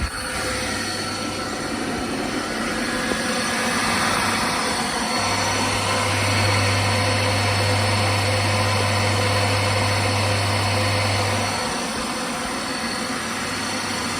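A Haas VF3 CNC vertical mill spindle spinning up in high gear, a steady loud mechanical whine and hum that holds continuously, swelling stronger through the middle before easing back, with no talking.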